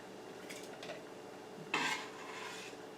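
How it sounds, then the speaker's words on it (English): A slotted spoon scrapes and scoops through a bowl of homemade fresh vegetable salsa, with two light clinks early on and then a louder wet scraping scoop, close and quiet. "So I'm going to use a slotted spoon to get rid of a little bit of the liquid."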